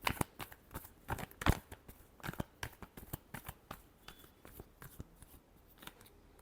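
Tarot cards shuffled by hand in a Gemini love reading, a quick run of crisp riffling and slapping taps, close and fairly quiet, with no voices.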